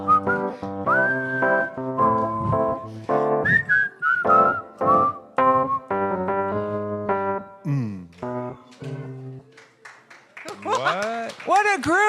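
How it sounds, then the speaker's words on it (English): A church congregation at a Sunday service whistles a tune together, clear melodic whistling rising and gliding in phrases, then a brief burst of livelier whistles near the end. "Whistle!"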